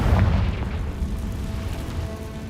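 A Confringo explosion spell in the video game Hogwarts Legacy, a loud, deep boom with a rumbling low tail that fades out gradually, heard alone without talk.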